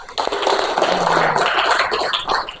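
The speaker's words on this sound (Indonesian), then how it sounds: "Tepuk tangan untuk Putra." A classroom of students claps for a classmate, a brisk, fairly close patter of hands that stays even from start to finish.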